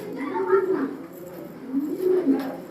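A racing pigeon coos twice in close, throaty, rolling phrases, loud and clear with a short pause between them.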